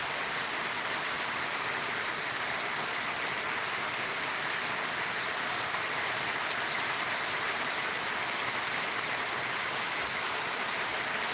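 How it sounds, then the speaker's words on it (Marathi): Steady rain pours down over open farmland in humid, hot weather, a dense even hiss that holds at the same loudness throughout with no voices. "आणि अचानकच पाऊस चालू झालेला आहे"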